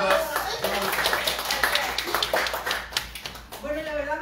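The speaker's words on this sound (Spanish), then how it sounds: "Aplausos, aplausos." Audience at a diploma ceremony for a communication workshop claps steadily, a dense patter of hands throughout, with a voice speaking over the end.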